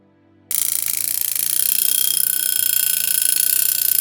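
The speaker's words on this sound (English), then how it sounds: "That's the alarm." After a brief quiet moment, a vintage Westclox alarm clock bell starts ringing loudly and continuously, a fast metallic rattle that keeps going without pause.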